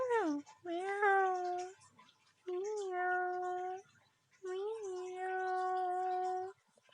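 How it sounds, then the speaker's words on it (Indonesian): A cat in mating behaviour gives three drawn-out, wavering yowls, each stretched over a second or more with short gaps between, fairly quiet and close. "Kelakuan kucing mau kawin, cek."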